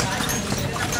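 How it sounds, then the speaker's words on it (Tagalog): Hooves of a horse pulling a kalesa carriage clip-clop in a quick, steady rhythm beneath people talking, with street noise throughout. "nakasay kami ngayon sa Kabayo, sa Kalesa, kay Mokang."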